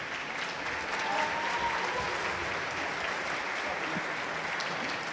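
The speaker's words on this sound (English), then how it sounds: "please give me a very, very big applause" Sustained applause from a large audience at the closing of a startup summit stage event, a dense steady roar of clapping heard alone for the whole stretch.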